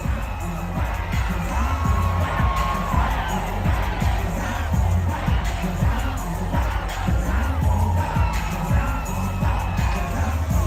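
A large crowd at a street gathering in Los Angeles cheers and shouts continuously, a dense loud roar of many voices with scattered whoops and thumps throughout.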